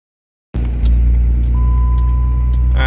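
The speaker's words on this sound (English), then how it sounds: "Let it run in neutral for a while" A car idles in neutral after a transmission cooler repair, its engine catching abruptly from silence into a loud, steady low rumble with a faint whine, close by.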